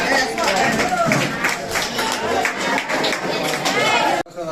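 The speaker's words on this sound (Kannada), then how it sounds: "ಅವರಿಗೆ ಗೌರವ ಚಪ್ಪಾಳೆ ಕೊಡಬೇಕು" Audience applause at a Sharada Puja event in a rural boys' and girls' high school hall in Baraguru, a dense, steady wash of many hands clapping that runs loud and even, then cuts off abruptly near the end.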